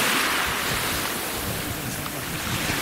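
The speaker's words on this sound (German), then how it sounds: "Hier ist die offene See." Sea waves wash onto a beach on the open sea in Spain, a steady, dense surf hiss mixed with wind buffeting the microphone, continuous and fairly loud, with no voices.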